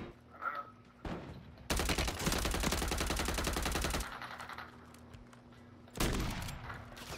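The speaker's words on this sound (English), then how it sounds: "I don't even see who you're shooting" Rapid automatic gunfire in a Call of Duty MW3 ranked match, a loud close burst lasting over two seconds, then quieter ambient game noise before another sharp burst of shots.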